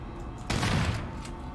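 Gunfire in the survival-horror video game Daymare 1998 comes as one loud burst of shots that fades quickly into the game's steady background ambience, with no voices over it.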